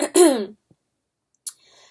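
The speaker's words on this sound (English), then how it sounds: "Sorry, I'm just like coughing." A single harsh, throaty cough close by, followed by silence and a brief breathy sound.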